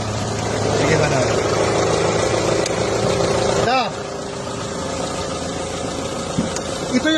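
Car engine idling in a garage, a steady mid-pitched running hum that continues throughout, with a brief dip and shift near the middle.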